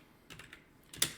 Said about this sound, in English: one of you is typing and I can hear everything.